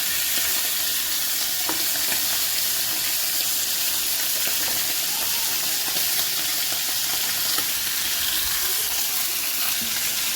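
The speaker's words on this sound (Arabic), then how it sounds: "بصوا ها شايفين بتشوح كده وما بينزلش اي ميه" Liver sautéing in a pan over high heat gives a steady, close sizzle and crackle of frying with no water pooling, continuous and fairly loud throughout with no talking.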